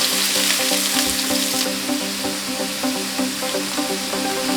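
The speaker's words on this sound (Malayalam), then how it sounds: "എണ്ണ ചൂടായി കഴിഞ്ഞാൽ നമ്മൾ ഈ അരിഞ്ഞു വെച്ചിരിക്കുന്ന വെജിറ്റബിൾ ആവശ്യത്തിനെടുത്ത് ഇതിലോട്ട് മിക്സ് ചെയ്യുക" Chopped vegetables frying in hot oil for a parotta vegetable roll filling, steady close crackling sizzle with occasional stirring clinks throughout.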